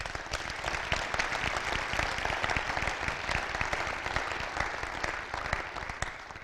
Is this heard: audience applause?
yes